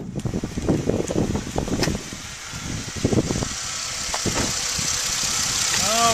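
A 2005 Chrysler Sebring's 2.7-liter double overhead cam, 24-valve V6 idles under the open hood. Some low thumps come first, then it settles into a smooth, steady hum, close by.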